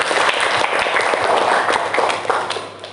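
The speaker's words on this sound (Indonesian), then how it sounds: "Beri tepuk tangan." An audience at an Indonesian teacher-training class presentation claps in a dense, steady burst of applause that holds throughout and tapers slightly at the end.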